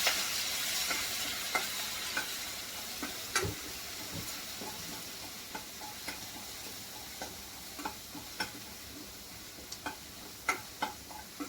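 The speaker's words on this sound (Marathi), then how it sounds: "तर मी हे अद्रक लसण मिरची कुटून घेतलेली ती पण टाकून देऊया याला चांगलं मिक्स करून घेऊया" Crushed ginger, garlic and green chili paste stir-fry in hot oil with a steady soft sizzle, punctuated by quiet, irregular ticks and taps of a spoon against the pan and no talking.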